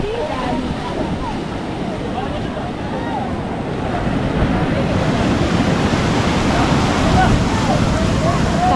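Sea waves surge and wash continuously at a fishing spot, loud and close with wind buffeting the microphone, while people talk over the surf.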